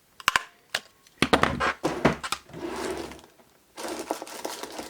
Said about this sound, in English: going to punch a hole at the top